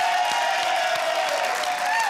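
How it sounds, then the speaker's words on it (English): A game-show studio audience breaks into sustained applause, a dense, even clatter of many hands lasting a couple of seconds, with a host's voice faintly over it near the end. "Give them a round of applause."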